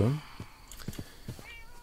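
A cat in the video game Minecraft lets out a short meow at the start, followed by soft scattered game clicks and faint tones, fairly quiet and close.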